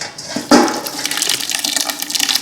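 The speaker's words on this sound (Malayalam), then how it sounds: "കുറേശ്ശെ ഒഴിക്കുകയാണ് നമ്മൾ." Hot homemade apple juice is poured little by little through a small strainer, making a close, continuous trickling splash that begins with a brief louder gush and then keeps up at a moderate level.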